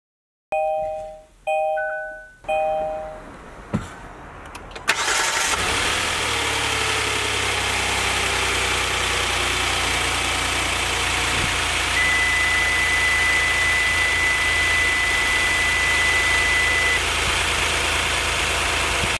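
A car started with a jump starter: a few chime beeps, a short cranking burst, then the engine catches and settles into a steady, loud idle that continues to the end.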